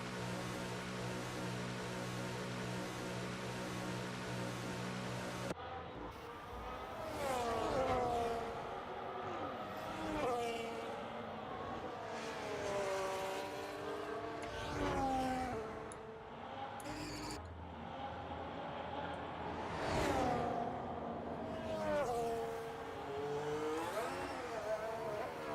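F1 race cars from the 2026 season scream around the Monaco street circuit in a racing video game, a continuous high-pitched engine wail rising and falling through gear changes and corners, loud and close, with a steady tonal drone at the start.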